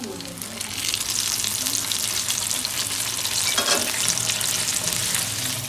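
A zinger burger frying in hot oil over high heat gives a steady, dense sizzle with crackling bursts. The sound is close and continuous throughout.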